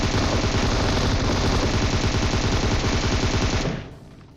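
An M249 machine gun in a video game fires one continuous, dense, very loud burst for nearly four seconds, then cuts off abruptly.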